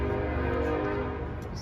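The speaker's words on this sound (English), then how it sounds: "Excuse the train in the background." A train rumbles steadily in the background, a low continuous drone with faint horn-like tones, heard alone with no talk.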